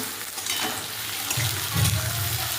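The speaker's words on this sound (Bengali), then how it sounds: "চিকেন একটু রান্না করছি" Chicken curry cooking in a pan with homemade spices, a steady close sizzle and bubbling hiss with a brief stirring scrape near the end.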